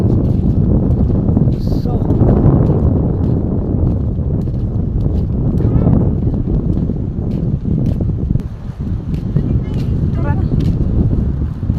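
Strong wind blows at Lio Beach, El Nido, Palawan, at the far end of a bridge with rain threatening. A continuous gusty roar buffets the microphone under close, casual talk.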